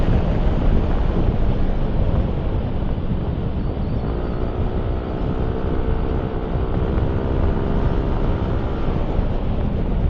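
Strong wind roars steadily into the microphone of a riding motorcycle for the whole stretch, with a faint low engine drone rising partway through.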